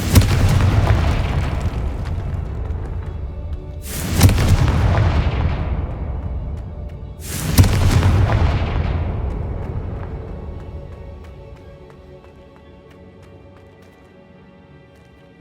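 Three heavy booming blasts from the Confringo spell in Hogwarts Legacy, spaced about four seconds apart, each a sharp loud crack followed by a long rumbling decay that fades to quiet.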